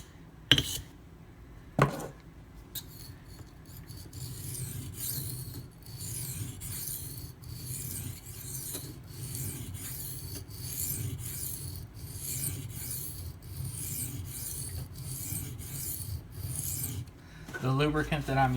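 A knife blade is stroked back and forth on Norton water stones and Arkansas stones lubricated with a dish-soap mix. It makes a steady, close rasping scrape, preceded by a couple of sharp knocks at the start.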